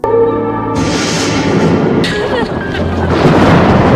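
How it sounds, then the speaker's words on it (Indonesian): Thunder breaks out in a dramatic scene as lightning appears. A sustained musical tone gives way to loud, broad rumbling crashes that surge twice and roll on to the end. "Tiba-tiba terdengar guntur dan terlihat kilat."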